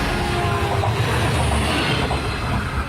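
A train rolls along railway tracks with a steady, continuous rumble and rhythmic wheel noise, used as a sound effect in a radio advert, with no voices over it.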